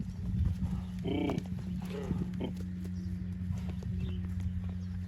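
Pregnant Vladimir draft horse mares walking with soft, steady hoof clops on hard ground, close by, under a low constant hum and some background noise.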